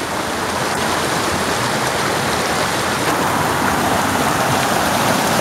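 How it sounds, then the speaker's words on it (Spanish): A swollen river in flood near the prehistoric altars of Almofrei, a steady, loud, broadband rushing roar of fast water, continuous and close with no breaks. "Hay una crecida aquí y se me lleva al río"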